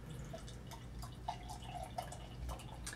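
Green homebrew American Pale Ale from a Mangrove Jack kit is poured into a glass, a faint close trickle and splash with small drips and gurgles, no talking.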